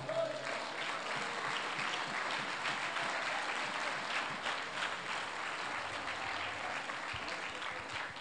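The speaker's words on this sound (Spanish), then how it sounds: "Dele palmas a Cristo, hermano" Church congregation claps together for Christ during a sermon, dense continuous applause filling the room at a moderate, even level throughout.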